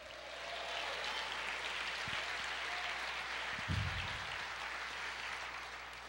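A church congregation applauds, a soft, steady wash of clapping heard from a distance over a low hum, with a couple of brief thumps near the middle.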